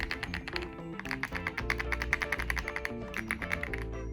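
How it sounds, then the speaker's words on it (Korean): Rapid, clicky mechanical keyboard typing, close and steady, with a dense patter of keystrokes and occasional louder key taps. "이렇게 소리나는 키보드를 사용할 수 있다는 것"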